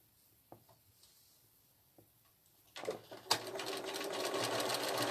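A sewing machine with a walking foot begins stitching a quilt after a few soft clicks and taps, then settles into a fast, steady mechanical whirr that grows slightly louder.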